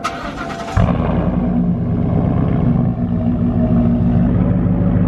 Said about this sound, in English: we just started up the Raptor